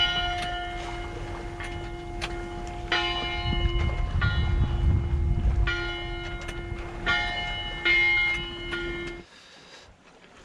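A bell on a sea buoy clangs repeatedly as a sailing boat passes it in light wind. The bright strikes come in irregular clusters over a steady low drone and soft water noise, then fade out.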